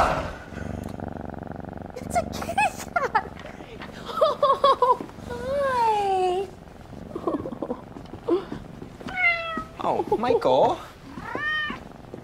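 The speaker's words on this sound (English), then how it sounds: "it was a cat that made the dinosaur sound" A cat meows and purrs in a string of drawn-out, rising and falling cries with short breaks between them, close to the listener, over a faint background hum.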